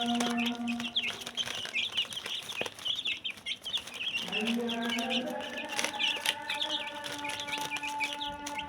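Desi hen and her chicks cheep and cluck close by in a repeated, chattering flurry of short calls, with a person talking softly underneath.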